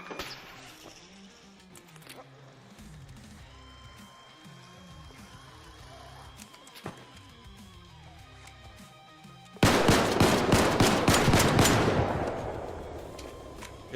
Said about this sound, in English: I mean, this gun is really loud